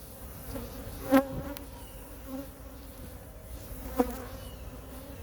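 Honeybees hum steadily as nucs are installed, a soft continuous buzz with two brief louder bursts from nearby bees passing close.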